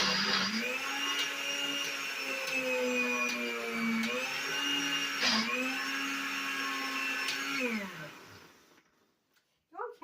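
A blender whirs loudly and steadily while making a thick peach and blueberry smoothie, its motor pitch dipping and recovering briefly as the fruit churns, then cutting off near the end before a brief knock.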